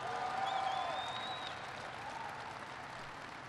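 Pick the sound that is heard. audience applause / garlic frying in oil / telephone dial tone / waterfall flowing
audience applause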